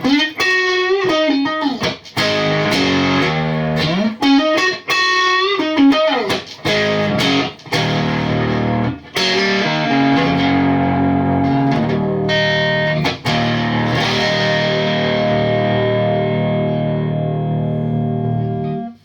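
Electric guitar through an Ibanez TS9DX Turbo Tube Screamer overdrive pedal on the neck pickup plays choppy chords and riffs with short pauses, then rings out in long sustained distorted chords, loud and close.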